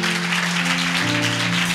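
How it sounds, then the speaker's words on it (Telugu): An audience at a worship gathering clapping loudly together, a dense, even wash of applause filling the whole short stretch, close and strong, with a low sustained tone underneath. "బిగ్గరగా చప్పట్లు కొడుతూ"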